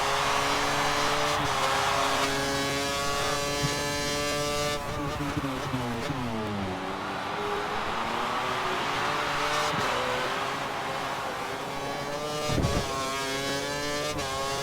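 A Sauber F1 race car engine in F1 2013 at Australia screams loud and close, with sweeping pitch rises and drops as it accelerates, shifts gears and brakes through corners, alone without talk.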